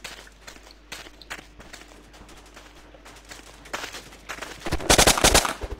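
Gunfire in the block-building shooter game Block Post: scattered shots and footstep-like clicks early on, building to a loud burst of rapid automatic fire near the end, with no talk over it.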